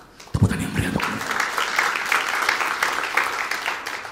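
Church congregation at a sermon breaking into applause, a lively sustained patter of many hands clapping, fairly close and even throughout, beginning after a few heavier thumps.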